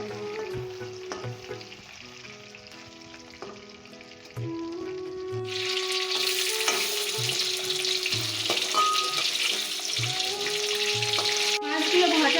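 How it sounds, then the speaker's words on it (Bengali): Pieces of katla fish fry in hot oil, a quiet crackle at first that jumps into a loud, steady hissing sizzle close by, with occasional clicks and scrapes of a utensil against the pan. "মাছগুলোকে ভালো করে ভেজে নেব। মাছগুলো এক সাইড ভাজা হয়ে গেছে"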